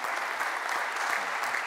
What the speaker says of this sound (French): on va vous applaudir aussi